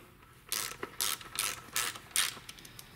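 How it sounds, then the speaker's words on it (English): A ratchet with a quarter inch socket runs a center stud in during a 47/48RE transmission low band adjustment, five bursts of rapid clicking pawl strokes, close and clear with no talk. "I like to just run it in with the ratchet first"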